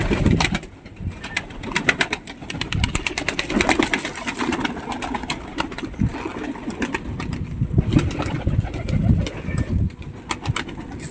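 Pigeons cooing close by in a loft with fluttering wing flaps and shuffling, a steady busy flock sound throughout with no talking.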